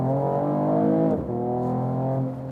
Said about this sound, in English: This 6-cylinder sound is just really great